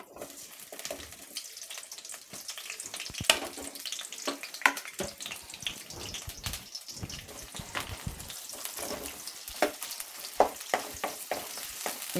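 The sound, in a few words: chopped onions frying in oil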